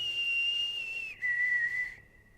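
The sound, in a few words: person whistling during paranormal investigation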